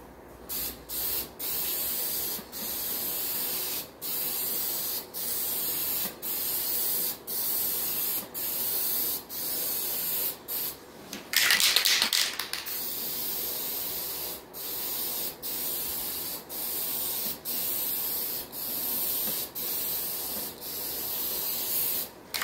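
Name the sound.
spraying a coat over taped holes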